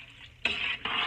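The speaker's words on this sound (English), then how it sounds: "I'm just going to give it a stir" A spoon stirs a big pot of homemade vegetable soup with beef stew strips and hamburger meat, giving two close, scraping swishes after a quiet start.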